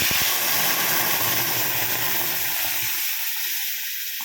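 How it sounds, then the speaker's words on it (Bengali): A momo chutney spice paste hits hot mustard oil with a loud, close, broadband sizzle. A few sharp clatters come at the start, and the hiss carries on steadily before easing slightly toward the end. "সর্ষের তেলটা গরম হয়ে গেছে, যেই আমি চাটনিটা করেছিলাম মশলাটা ওটা দিয়ে দিচ্ছি।"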